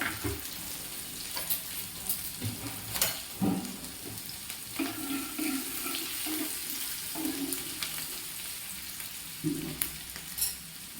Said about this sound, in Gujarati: ડુંગળીને સારી રીતે આપણે પહેલા સાંતળી લેવાની છે.